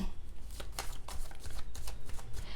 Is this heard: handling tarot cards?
yes